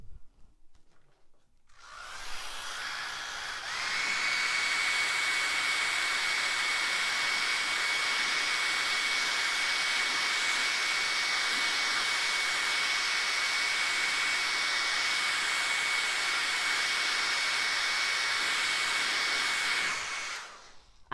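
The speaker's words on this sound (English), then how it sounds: "So excuse the blow dryer." A blow dryer runs steadily for about twenty seconds, drying paint on porcelain, with a loud constant whooshing hiss and a faint whine after it starts up, heard alone without talk.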